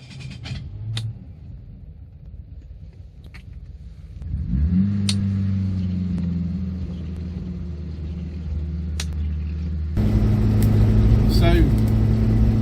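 A 1969 classic car engine rumbles steadily at a low idle, then revs up and grows louder as the car pulls away, with a few clicks and knocks along the way.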